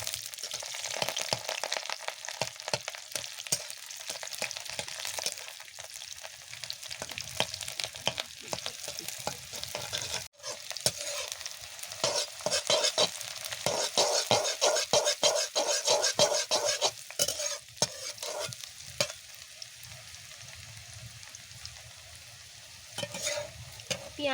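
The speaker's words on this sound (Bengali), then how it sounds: "তেল গরম হয়ে গিয়েছে, আমি এবার পেঁয়াজ দিয়ে দেব।" Sliced onions fry in hot oil in a pan, a steady close sizzle broken by repeated scraping and stirring of a spatula, with no talk.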